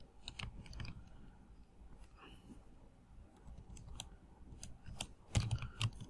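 Faint, irregular clicking of a computer keyboard during Python database coding, sparse keystrokes in small clusters with a slightly louder flurry near the end.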